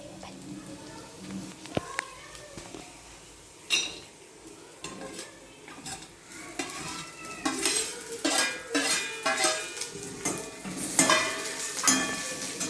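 Okra that was roasted earlier is tipped into a pan and stirred, bringing soft scrapes and clinks of a utensil against the pan over a light sizzle that grows busier toward the end; a voice talks throughout.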